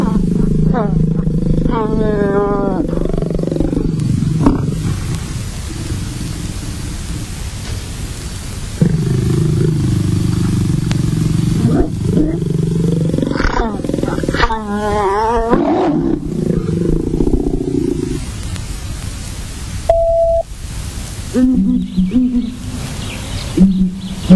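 Lions making courtship love sounds and roars: deep, rumbling moans and grunting roars repeat loudly and close, with brief bird calls in the background.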